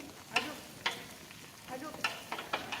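A wooden spoon stirs melted plastic in a pot while it is being turned into paving blocks, giving soft, intermittent scraping and sizzling strokes at a moderate distance over low background hiss.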